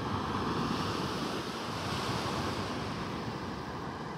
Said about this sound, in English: I'm actually out on the beach by Bay Colony in Pelican Bay.